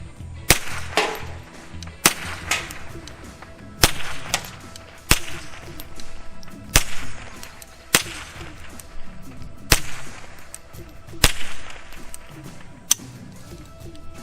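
A string of about eight suppressed .22 LR rimfire pistol shots, spaced a second or two apart, each a quick crack with a brief tail.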